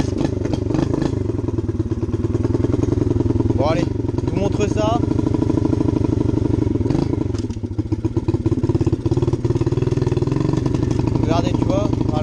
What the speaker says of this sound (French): Là on se retrouve avec la petite moto pour juste vous montrer comment elle roule.